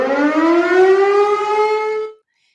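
A civil-defense-style siren wails loudly and alone, its tone rising steadily for about two seconds before cutting off abruptly into silence.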